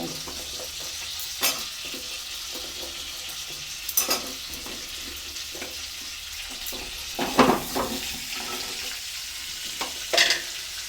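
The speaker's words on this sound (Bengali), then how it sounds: "আলুগুলো একটু ভেজে নেব" Potatoes frying in a pan for a winter-vegetable vegetarian khichuri, a steady low sizzle running throughout with scattered louder clinks and scrapes from stirring, no voices.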